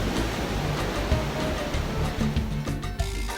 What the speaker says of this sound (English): The waves are wonderful, the water is cool